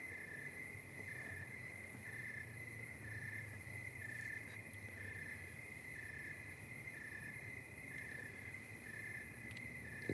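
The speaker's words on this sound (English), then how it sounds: "The crickets are cricketing." Crickets chirping at night, a steady high trill pulsing in regular bursts, soft and somewhat distant, with nothing else going on.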